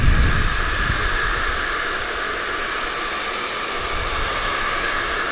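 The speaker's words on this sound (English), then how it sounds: "It is a heavier blow dryer." A heavy handheld blow dryer runs steadily on its middle setting, a loud continuous broadband whoosh with a constant motor hum that holds evenly throughout, no voices.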